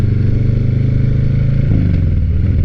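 2021 Harley-Davidson Heritage Classic motorcycle engine running loud and close, a deep steady rhythmic thump with a brief shift in pitch partway through.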